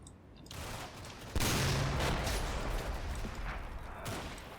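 Battlefield gunfire in a military strategy game: a sudden heavy burst followed by rolling, crackling volleys of small-arms fire and a later sharp shot, loud and sustained with no talking.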